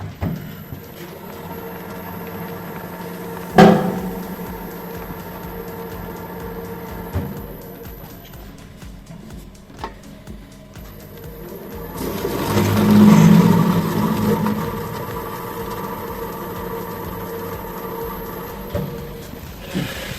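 An STvega industrial strip slicer cuts hard Gouda cheese into fine strips at rotation speed 50, giving a steady mechanical motor hum with a sharp click early on and a louder surge of cutting noise midway.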